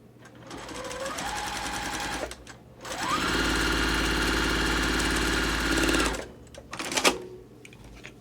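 A sewing machine stitches a quilt seam on a pinwheel star block in two loud, steady runs, the second longer and faster, with short pauses and a clunk of handling between them.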